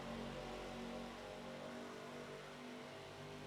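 Race cars accelerate at Daytona in the iRacing simulator, a steady engine drone climbing through the gears with tonal whine, sustained and fairly quiet, no voices.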